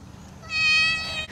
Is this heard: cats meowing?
yes